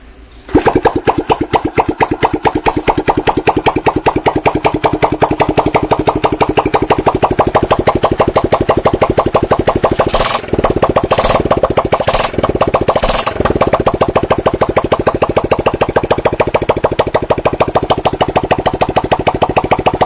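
Honda STX 125 motorcycle engine idling steadily after starting, a loud, even rapid putter that holds for the whole stretch, with a few brief gaps or stumbles midway.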